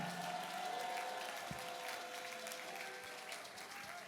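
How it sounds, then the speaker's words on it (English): A church congregation claps in praise of Jesus after a testified miracle. The applause is faint and distant, a steady wash of many hands lasting several seconds. "Is that all the clapping and all the glory we give to Jesus?"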